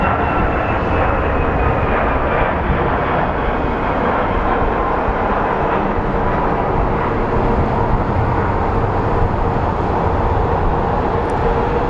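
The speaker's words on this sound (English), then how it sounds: "Pretty wild how much power they put up on these engines and go airborne." Jet airliner engines at takeoff power at Phoenix Sky Harbor airport, a loud, continuous broadband roar that holds steady for the whole stretch with no talking.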